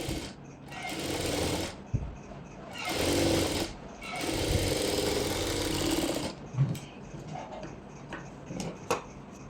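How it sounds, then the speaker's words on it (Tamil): A sewing machine stitches along the center line of a circular maxi skirt in several loud, close bursts of rapid clattering separated by pauses. Softer ticks and handling noises follow. "கரெக்டாக அந்த சென்டர் லைனில் ஸ்டிச் கொடுக்கலாம்"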